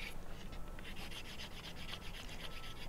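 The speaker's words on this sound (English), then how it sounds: "As usual, sanding, of course, is a lengthy process," Steady rhythmic rasping as a carbon fiber sword is hand-sanded, soft close strokes repeating evenly and faintly without talk.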